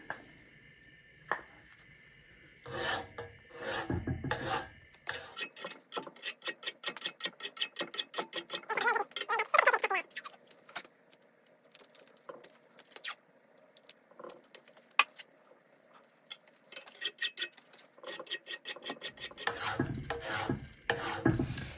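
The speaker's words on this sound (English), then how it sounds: "just give everything some sanding with progressively finer sandpaper" Rapid rhythmic rasping strokes of progressively finer sandpaper scrubbing copper vise soft jaws, in bursts with short pauses, close and moderately loud.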